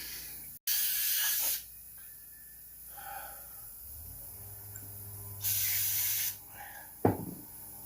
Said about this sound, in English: I'm going to spray that out some more.